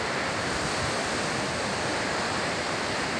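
Loud, steady roar of ocean surf washing onto a small beach at Bermeo in the Spanish Basque Country, a dense continuous rush without any voices.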